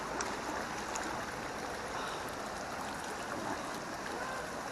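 A river flows in a steady, broad rush of water, constant and fairly close, with no pauses or distinct splashes standing out from the continuous wash.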